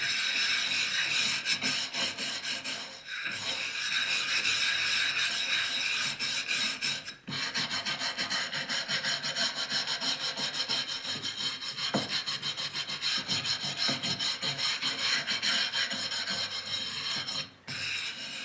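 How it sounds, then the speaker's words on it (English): Nylon bristle brush scrubbing transfer print paper onto pottery in a loud, continuous rasping rub with brief pauses, close and dominant throughout. "the final rub is with a bristle brush, or nylon or bristle"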